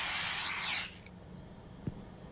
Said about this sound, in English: Some rat spray?